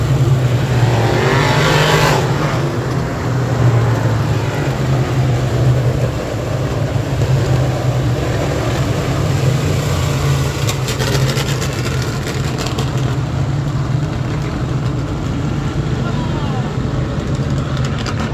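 Race cars roar around the track in a continuous, loud engine wash at a race, one car surging close early on, while an announcer talks over the noise.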